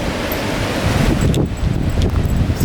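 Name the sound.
wind blowing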